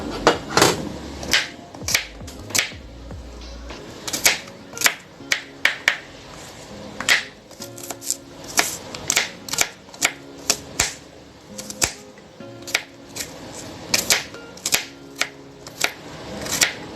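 A knife taps briskly and repeatedly on a cutting board, chopping garlic for a fresh tomato soup, with sharp, close, irregular strikes.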